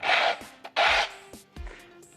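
Slippers dragged across the floor in a rough sandpaper-like scrape: two strong rasping strokes and a weaker third, each followed by a soft thud, close and quiet with no voices.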